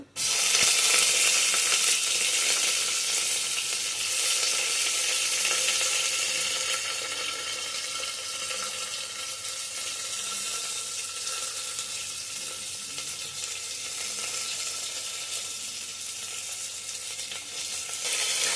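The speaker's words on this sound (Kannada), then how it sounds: "ಈರುಳ್ಳಿ ಸ್ವಲ್ಪ ಫ್ರೈ ಆಗಲಿ." Onions fry in hot oil with cinnamon, cloves and kasuri methi for a pulao-style dish, a loud, dense, unbroken sizzle that eases slightly after the first few seconds.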